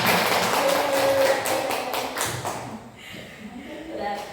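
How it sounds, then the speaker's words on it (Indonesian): A group claps together in a quick, dense patter that fades out after a few seconds, with voices murmuring underneath. "Beri tepuk tangan untuk kita semua."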